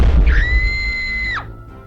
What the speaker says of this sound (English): that was explosions and screaming now